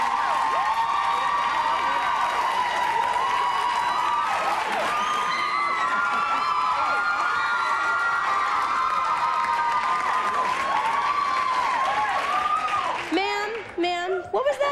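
A television talk show studio audience applauds and cheers loudly and continuously, with whoops and shouts layered over steady clapping. Near the end the noise breaks up into scattered voices.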